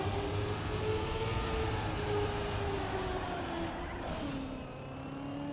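A race car on an ice track in the racing game Trackmania, holding a steady engine drone with slowly sliding pitch as it drifts through a turn, close and continuous with no talk.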